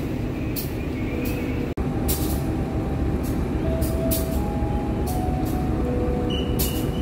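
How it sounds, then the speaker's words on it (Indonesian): Cikuray passenger train rolling along a railway track, a steady loud rumble of wheels with faint squeals and clanks running throughout, close and continuous without talk. "Cikuray siap menyusul. Nanti bakal melintas di jalur sini nih."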